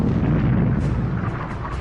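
Artillery fires from a valley behind a coastal defensive position in a dramatized wartime scene, producing a dense, continuous low rumble of booming blasts that fills the short stretch loudly, with no voices.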